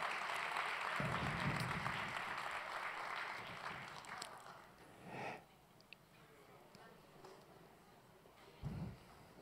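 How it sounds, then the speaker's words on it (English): Audience applause at an annual dinner, a broad steady wash of clapping that fills most of the stretch and then thins out, with a few brief voices and breaths rising near the end. "Big round of applause."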